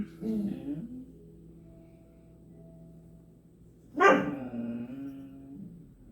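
Dog barking indoors: one short burst of barks and whines near the start, quiet, then a loud, close yelping bark that trails off into whimpering.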